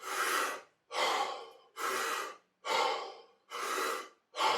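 A person performs a guided deep breathing exercise, taking six strong, rhythmic breaths close to the mic, each a loud rushing airflow separated by short silent pauses.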